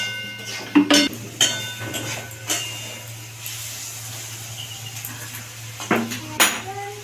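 Prawns with chilli powder and turmeric stirred in a pan, giving a few scattered scrapes and clinks of a utensil against metal over a low, steady background hum.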